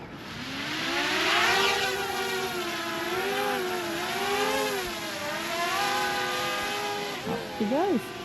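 An aircraft engine drones and its pitch rises as it powers up for takeoff, loud and steady, with faint speech in the background.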